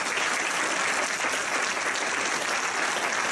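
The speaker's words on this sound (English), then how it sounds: "Give yourselves a round of applause." A graduating class applauds, dense steady clapping filling the room without a break, loud and close, with no voices rising above it.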